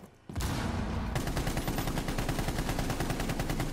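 Sustained rapid automatic gunfire in Rainbow Six Siege, loud and close, starting abruptly after a brief quiet and continuing as a dense rattling burst with no talk over it.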